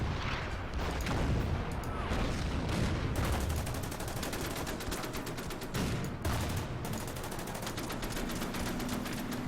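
Artillery fire in the wartime strategy game Order of Battle: Endsieg, dense rapid volleys of blasts and booms that roll on continuously and loudly with no voices.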